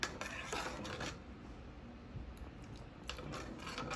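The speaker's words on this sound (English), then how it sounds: "Just a little bit more milk and stir" Spoon stirring milk into cornmeal porridge in a pot, soft scraping and rubbing strokes against the pot, quiet and close with a few sharper clinks.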